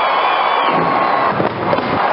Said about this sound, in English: Rico Petrocelli has a home run as the fireworks will be going off shortly